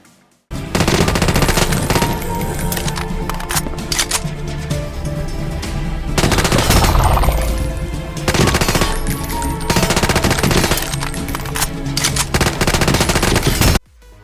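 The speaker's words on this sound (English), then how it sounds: "Shooting zombies in Toth Dead is all what you need to do if you want to live among the walking zombies by daylight." Rapid automatic gunfire rattles almost without pause as zombies are shot in a mobile shooter game. The loud, dense bursts cut off sharply at the end, and no one speaks.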